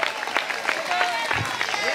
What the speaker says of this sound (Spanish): Dele fuerte ese aplauso